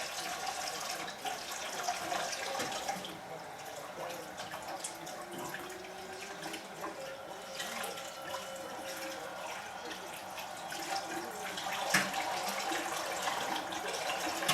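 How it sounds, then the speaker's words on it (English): A kitchen sink tap runs steadily while a knife is washed under it, a continuous moderate splash with small clinks, heard fairly close. "I'm washing a knife."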